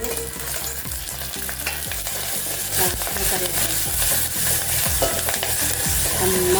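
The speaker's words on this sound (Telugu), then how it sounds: "నెయ్యి పోపు కదా" Ghee tempering with cumin seeds and curry leaves crackles loudly in a hot pan, a dense close sizzle full of rapid pops and spits that stays strong throughout, with no one talking.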